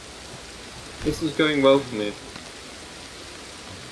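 Steady rain falls in the prehistoric game Ancestors: The Humankind Odyssey, a soft continuous hiss running throughout at even level while a voice speaks briefly in the middle.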